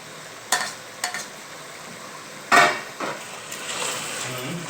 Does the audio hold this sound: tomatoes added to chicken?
yes